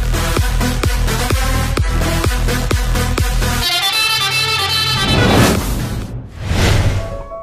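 An Indonesian-style bus telolet horn pulses in a quick repeated rhythm, then shifts into a loud, melodic multi-tone tune that holds before fading and sounding again.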